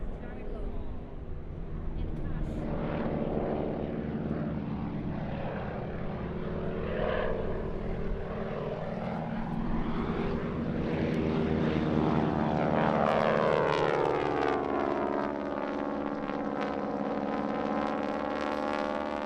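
Propeller planes of the Aero Superbatics wing-walking team drone overhead at the Zhengzhou Airshow 2018, a steady loud engine roar with a Doppler sweep as they pass, under continuous commentary.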